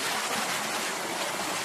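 A mountain-fed river with clear water runs below, giving a steady, dense rushing wash that stays even throughout, with no voices.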